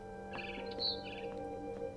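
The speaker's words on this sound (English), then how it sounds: "Then I heard chirping outside my window." A barn swallow in a video game gives a few short, high chirps over a steady, low background hum, fairly faint and spaced across two seconds.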